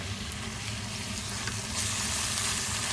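Ginger paste fries in a pan as the base for a meat biryani, a dense, steady, close sizzle and crackle that swells slightly louder toward the end, with no voices.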